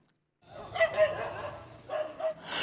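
Stray dogs bark in a city street in Mukalla, Yemen, a few loud, close barks and yips in quick succession with some background noise.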